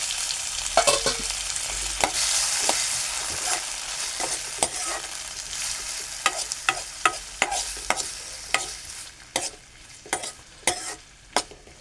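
Onion and tomato in a hot oil tempering crackle and sizzle in a continuous hiss, broken by sharp spattering pops and stirring clicks that grow more frequent toward the end; nearby, no talking.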